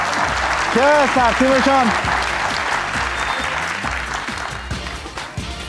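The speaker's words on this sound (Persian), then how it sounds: "دوستا تشویقشان کنین" A game-show studio audience applauds a team being introduced, with dense, sustained clapping running the length of the clip. A host speaks over the start, and the clapping gradually fades.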